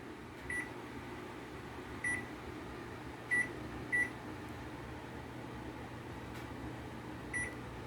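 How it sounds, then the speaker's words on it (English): A kitchen oven runs on a timer, giving a steady low hum with several short, high beeps at uneven intervals. "Let's put that in the oven."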